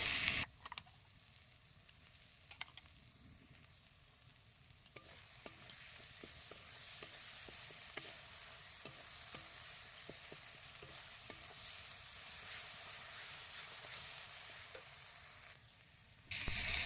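Fish curry fries in mustard paste and spices, a soft steady sizzle broken by scattered scrapes and taps of stirring, close by and faint, with louder clatter at the start and end.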